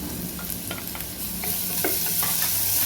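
A steady sizzle of garlic paste frying in a pan for bitter gourd stir-fry, with light scraping and tapping of a spoon as it is stirred.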